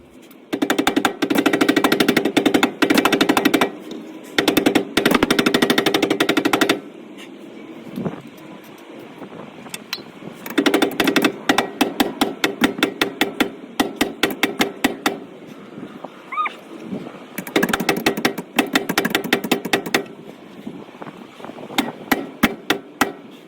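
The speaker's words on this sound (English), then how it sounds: "Just hammer each both sides, and it should go in." A rubber mallet drives Z1 differential bushings into a Nissan 350Z/G35, with loud, rapid hammering blows coming in dense bursts separated by quieter pauses, close to the listener and without speech.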